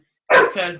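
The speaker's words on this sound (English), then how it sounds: "that's my dog." A pet dog gives one sharp bark followed by a shorter second yelp, close and loud, with a voice talking around it.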